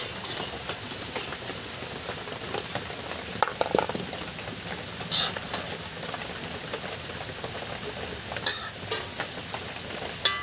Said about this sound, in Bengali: আমাদের গাজর আর আলু ভাজা হয়ে গিয়েছে, এবারে তুলে নেওয়া হচ্ছে